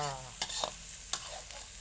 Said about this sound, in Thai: คั่วลงไปสักหน่อย ให้มันสุกๆสักหน่อยนึงก็เอาพริกลงเลยนะคะ